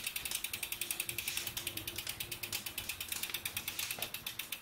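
A Sava Hi-Speed 700C racing bicycle wheel hub spins freely, giving a rapid, even train of fine ratcheting ticks from the freewheel pawls, close up and steady, with no talk.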